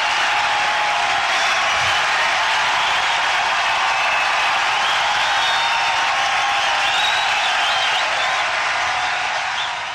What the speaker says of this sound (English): You can hear the crowd say, Tiger, Tiger.